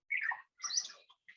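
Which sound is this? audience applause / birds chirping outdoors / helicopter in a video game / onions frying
birds chirping outdoors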